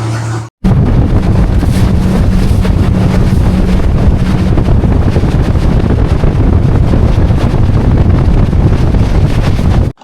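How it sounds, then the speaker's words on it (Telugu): A tour boat engine in a Malaysian mangrove forest drones steadily and loudly while strong wind buffets the microphone. No one speaks. "సో ఇంకా మన బోట్ అయితే స్టార్ట్ అయింది ఇక్కడ నుంచి నెక్స్ట్ డెస్టినేషన్కి"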